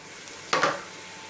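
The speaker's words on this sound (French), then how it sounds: "Je vais mélanger." Ricotta stirred into spinach in a pan, heard as a short, soft double scrape of a spoon against the pan over faint background hiss.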